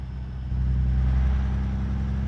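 A truck engine with a low-geared transmission in American Truck Simulator drones steadily, a low rumbling hum that swells slightly after a moment and holds at high revs without any talk.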